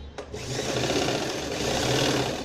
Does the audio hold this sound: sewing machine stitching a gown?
yes